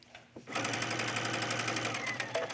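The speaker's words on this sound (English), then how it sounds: "And backstitch." A sewing machine backstitching the collar seam of a tunic runs steadily close up for about two seconds after a few soft handling clicks, its needle chatter a fast even rhythm.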